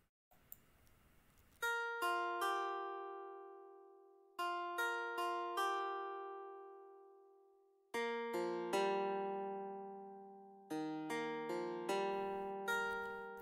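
A dulcimer string patch in FL Studio plays a plucked melody with an Asian flavour, bright struck notes decaying in short phrases, velocities varied, with no effects yet and no talking.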